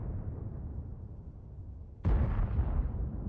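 A Kranvagn tank's cannon fires once in World of Tanks, a sudden loud, booming report that jumps out of a steady low engine rumble and lingers in a heavy echoing tail, with no talking.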